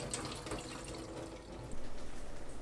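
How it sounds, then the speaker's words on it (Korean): Salted zucchini drains through a sieve, with a faint, soft trickle and patter of water dripping close by for a couple of seconds, growing slightly louder near the end, with no voices. "애호박은 20분 후 체에 거릅니다."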